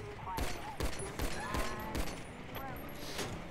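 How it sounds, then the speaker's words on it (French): Rapid gunfire in GTA 5 crackles in a quick series of sharp shots from mid distance, fairly faint amid game sounds, with a player talking over it. "Hop, ok, ça commence à me tirer dessus."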